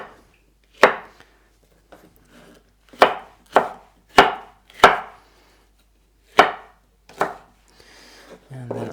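Knife slicing peppers into long strips on a cutting board, about ten sharp, distinct chops at an irregular pace with short gaps between, close and clear with no talking.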